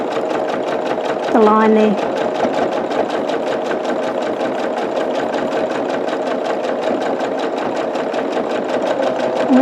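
A sewing machine stitching a string quilt with purple thread, a loud, close, rapid and steady stitching rattle running the whole time while someone talks over it.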